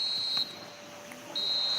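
A referee's whistle in the eFootball mobile football game sounds as two sharp, steady tones, one long blast, a short gap, then a second blast, over faint crowd ambience.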